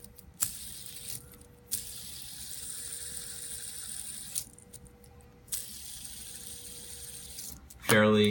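A plastic SpinTech fidget spinner whirs steadily with a faint, even hiss, broken by a few light clicks and handling taps, alone without talk.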